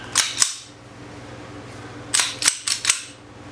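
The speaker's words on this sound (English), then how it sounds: "I am currently clearing the weapon because I keep it loaded" An Astra A80 .45 ACP pistol is cleared, giving sharp metallic clacks of the slide being racked: two quick ones, then after a pause four more in fast succession, close and loud with no talk.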